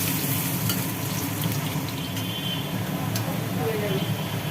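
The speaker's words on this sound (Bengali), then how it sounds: "আলুগুলোকে একটু ভাজি ভাজি করা হবে" Chopped potatoes fry in a pan for a vegetarian ridge gourd and poppy seed dish, with a loud, continuous close sizzle and occasional scraping of stirring throughout.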